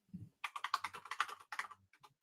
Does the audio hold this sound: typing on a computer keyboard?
yes